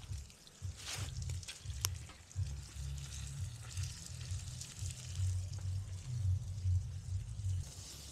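Food simmering and sizzling in a pan at a campsite, a steady close crackle over a low outdoor rumble, with a few brief sharper pops early on.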